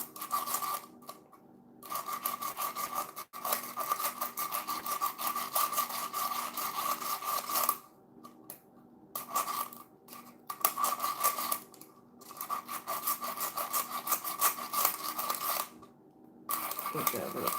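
Scissors snip and rasp through paper in long repeated runs with brief pauses between, close and steady, with a voice occasionally underneath.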